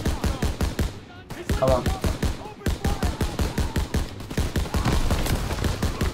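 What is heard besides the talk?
machine gun firing in video game Call of Duty WWII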